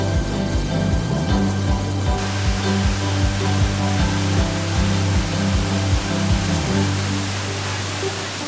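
A loud, roaring waterfall pours down wet rock in Little Santa Anita Canyon during a canyoneering rappel, its heavy, continuous rush filling the clip under a pulsing low mechanical hum, with no talk.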